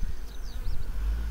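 Honey bees buzz around an opened hive outdoors on a windy, overcast day, a thin whining drone with a few insects passing close, set against low wind rumble.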